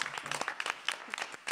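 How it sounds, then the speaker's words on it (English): A small comedy-show audience applauds a stand-up comedian, scattered claps close by forming a brief, uneven burst with no talk over it. "we're going to start with a big circle of applause for Chris Smith"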